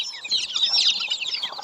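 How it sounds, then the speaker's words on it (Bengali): Domestic native chicken chicks peep in a rapid, high-pitched chorus, close by and continuous, with no voices over them. "এটাও কিন্তু একটা মুরগের বাচ্চা"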